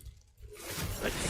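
Incendio fire spell cast in the video game Hogwarts Legacy, a soft swelling whoosh that rises out of near silence into a sustained crackling, airy rush, fairly quiet and alone.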